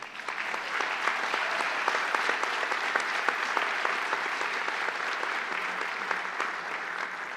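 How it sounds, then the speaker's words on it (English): An audience at a girls' education talk gives a sustained round of applause, dense steady clapping that holds at an even level for the whole stretch with a few sharper individual claps standing out. "now I want you to give a round of applause to your parents and grandparents."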